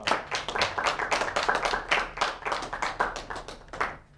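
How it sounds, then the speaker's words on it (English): A small audience claps for an invited academic speaker at a college lecture, the individual hand claps distinct and fairly close, rising and falling in uneven bursts for several seconds. "a big round of applause for Natasha"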